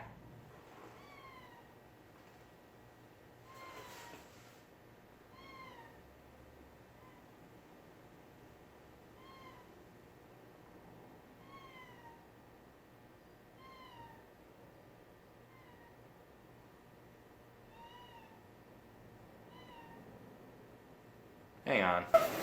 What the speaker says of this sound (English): Braven, get your damn cat!